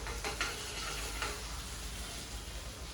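Finely chopped onions hit hot oil and fry with a steady, even sizzle and faint crackle, close and moderately quiet, with a few soft stirring ticks and no voices.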